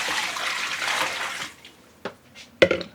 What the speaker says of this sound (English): we're adding in the water.